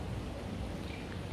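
Steady rain falling in Bangkok, a dense even hiss with soft patter, moderately close and continuous with no voices.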